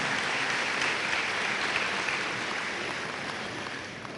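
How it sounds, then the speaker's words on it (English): A luncheon audience in Nashville gives a round of applause, a dense, even wash of many people clapping continuously at moderate volume, slowly tapering slightly. "Let's give these people a wonderful round of applause"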